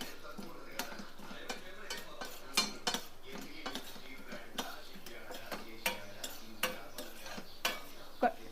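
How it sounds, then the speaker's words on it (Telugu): Chana dal roasting dry in a pan, a spoon tapping and scraping the metal in irregular sharp clicks over a faint steady background hiss, moderately close with no voices. "దీన్ని కొంచెం వేయించుకుందాం పచ్చివాసన పోయే వరకు వేయించుకుందాం"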